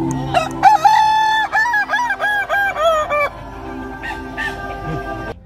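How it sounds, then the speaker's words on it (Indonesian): Kukuak Balenggek roosters, a breed native to Solok regency, crow at a crowing contest, one close rooster giving a long multi-part crow of rapid repeated notes, with other birds crowing and clucking in the background. "ratusan ayam jantan endemik Kabupaten Solo, yakni ayam kukuak Balengge, saling adu ketangkasan dalam perlombaan suara kokok terbanyak"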